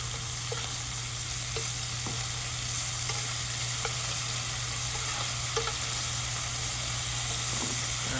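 Small tequila lime shrimp sizzle in a hot frying pan, a steady close hiss of frying with occasional faint ticks and stirring, alone without talk.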